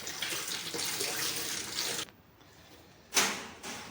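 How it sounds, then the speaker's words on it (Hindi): A tap runs water for a dog to drink, a steady broadband gush for two seconds that cuts off, then a short quieter burst of flow follows. "और पहले देता हूँ मैं हमारी डेजी को पानी।"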